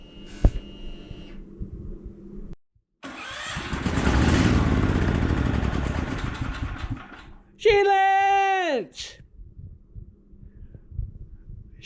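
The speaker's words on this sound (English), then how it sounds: "I'm just going to crank it over" A Generac XT8500EFI generator engine cranks over with a bare solenoid hookup and no crank cover, a steady whirring churn lasting several seconds after a brief pause, followed by a sharp rising whine.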